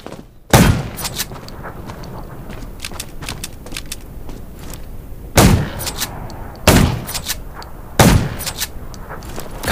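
Gunfire in the post-apocalyptic zombie survival game Undawn: four loud, sharp shots at uneven intervals, each a broadband crack with a short ringing tail, over a steady low background ambience.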